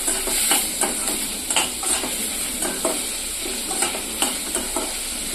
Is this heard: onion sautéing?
yes